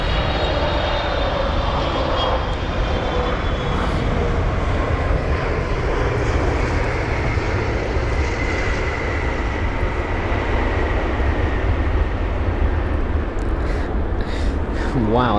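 A Boeing 777-300ER touches down hard at London Heathrow, heard from a distance as a steady, loud jet engine roar that runs throughout, with voices talking over it.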